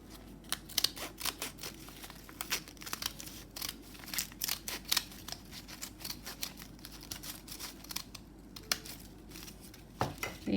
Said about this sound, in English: I'm going to clip it with my scissors to make it the width that I want